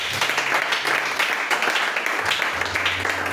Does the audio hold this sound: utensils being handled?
no